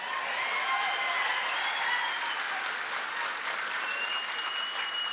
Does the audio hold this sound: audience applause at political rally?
yes